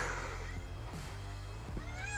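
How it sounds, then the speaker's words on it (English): A house cat meows in a drawn-out, wavering cry, close by, followed by a further shorter meow. "That's my cat that's offended"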